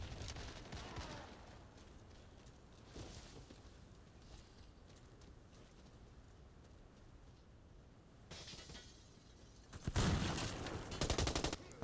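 Gunfire in Warface, sporadic bursts of automatic shots from a distance, then louder, closer volleys near the end amid steady game ambience.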